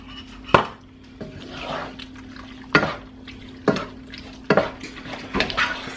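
A spoon stirs food in a pot, scraping against the pot in sharp, irregular strokes about once a second, with a soft sizzle between them.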